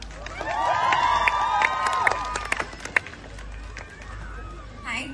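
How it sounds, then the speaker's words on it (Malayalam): An audience at the Kerala House Carnival in Dublin cheers with whoops and whistles, broken by scattered sharp claps, while voices carry through the crowd. "ഫോണൊക്കെ മാറ്റി വെച്ചൊരു കൈയടിയായിട്ട് കൊടുത്തേ."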